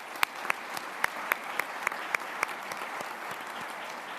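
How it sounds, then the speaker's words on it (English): A conference audience gives a round of applause for the farmers and chefs who served food, steady clapping at moderate distance with a few louder individual claps standing out, no talk over it. "If we can give them a round of applause as well"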